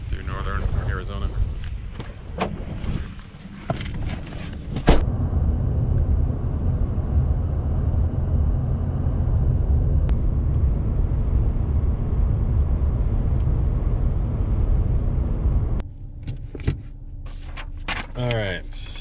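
Wind buffeting a microphone from inside a car at Grand Canyon National Park in snowy weather, a heavy continuous low roar lasting most of the stretch, with someone talking over it at the start and end.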